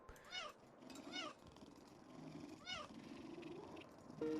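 A cartoonish cat in a video game meows three times, spaced out, against a steady background of game music and effects, with no talking.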